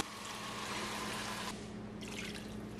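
Water poured into a pot of spicy Sri Lankan crab curry, a steady broadband pouring rush that shifts in tone partway through as the stream changes, continuous and close with no talking.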